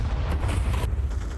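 A grenade blast in Counter-Strike 2 during a pro esports match: a short, heavy, rumbling boom that holds loud and dense for its full length, with no voices.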